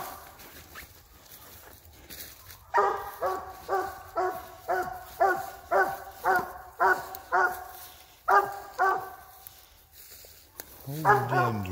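A dog barks about a dozen times in a steady, evenly spaced series of sharp, fairly close barks, with quieter background sounds before and after.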